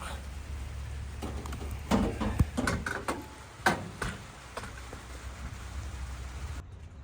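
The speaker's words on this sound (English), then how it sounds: "I'll bring you back as soon as the rain lets up." Rain falls steadily around a phone recording outdoors beside a two-wheel-drive three-quarter-ton square body truck, a constant hiss broken by louder drops and knocks, with a voice speaking at times.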